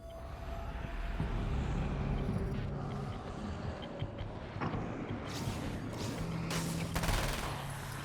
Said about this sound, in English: they gave me a machine gun